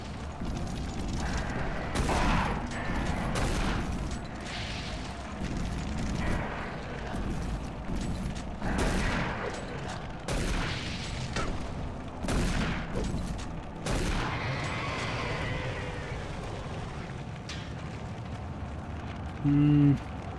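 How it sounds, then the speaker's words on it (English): Shotgun blasts from Doom 3 boom out at irregular intervals through a dark, rumbling mechanical ambience, several heavy reports loud and near, with occasional talking over the top. "Is this my, yeah, my rocket launcher? Oh no, it's a shotgun."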